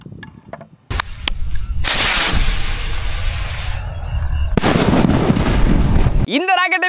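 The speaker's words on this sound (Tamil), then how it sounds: "மேலே போய்ட்டு சாம சவுண்டில் வெடிக்கும்." A large nattu vedi rocket firecracker carrying a bomb is lit outdoors for a test. It gives a sudden sharp crack, then a long, loud roaring blast with a second burst, before a voice breaks in at the end.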